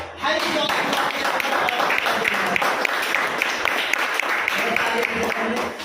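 A seated audience at a presentation breaks into steady, dense applause that carries at an even loudness for several seconds, with many hands clapping close together and some voices under it.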